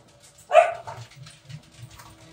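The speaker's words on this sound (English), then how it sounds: "Bonus points of securing the pegs makes your dogs bark." Dogs barking indoors, one sharp loud bark followed by a string of softer, lower woofs and grumbles, close by and with no talking over them.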